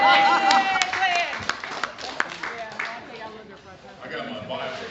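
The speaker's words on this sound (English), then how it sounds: "actually Glenn Goodwin, we want to give him a round of applause." An audience applauds Glenn Goodwin at a church anniversary gathering, a steady wash of clapping with scattered sharper claps and voices mixed in, gradually thinning toward the end.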